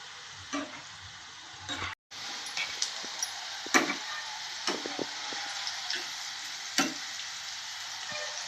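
Okra pieces fry in oil for pakodi, giving a steady moderate sizzle with intermittent scrapes and taps of stirring and a brief dropout near the start.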